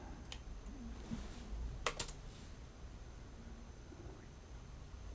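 Faint keystrokes on a computer keyboard come in a few sparse clicks and a short cluster, set against quiet room hiss.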